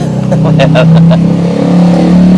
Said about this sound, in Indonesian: Di kampung itu motor knalpotnya kenceng-kenceng bener itu.